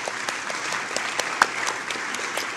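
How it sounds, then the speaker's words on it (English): Steady applause from a seated audience in a large conference chamber at a senior-level development meeting, dense even clapping with a few sharper claps standing out throughout. "I think that the room deserves a big round of applause"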